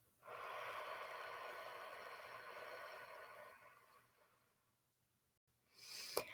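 A long, soft exhale during a deep breathing exercise, close and airy, easing out over about four seconds before fading to near silence, then a short sharp intake of breath.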